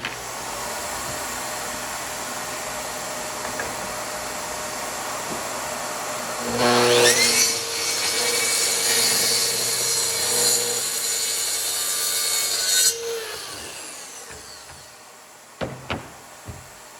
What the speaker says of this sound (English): So I set the track saw right along the edge on my marks that I measured from the outside of the board.